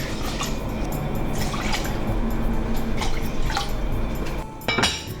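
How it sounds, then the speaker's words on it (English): Water poured into a pot of rice, a continuous close splashing and trickling stream with small drips toward the end. "I'm adding 3 cups of water."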